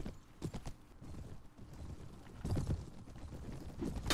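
Horses gallop in the Mount & Blade: Warband video game, with quiet, uneven hoof clatter and thumps scattered through the moment, swelling in a couple of louder bursts.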